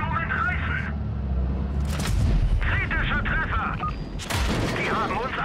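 Tank cannon fire in the mobile tank battle game WOT Blitz, several loud booming shots with sharp blasts near the two- and four-second marks over a dense, continuous battle din, with speech mixed in.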